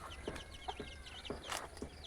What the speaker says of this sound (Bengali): এটা পিওর দেশি মুরগি।